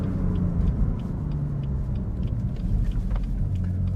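A BMW M3 CS pulling hard under acceleration, a steady deep engine rumble with a low droning tone throughout, heard from inside the car with no speech.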